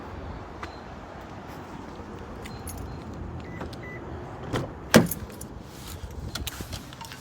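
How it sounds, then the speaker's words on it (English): Someone gets into a car outdoors on a still morning: keys jangle and small rustles over quiet outdoor ambience, then a single sharp door thump about two-thirds through, followed by softer handling noises inside the car. "I'm getting in my car."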